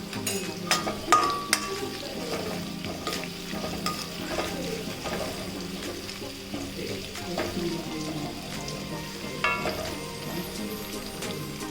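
Capsicum frying in a pan with turmeric, a steady close sizzle with light stirring and scraping clatter throughout, no talking.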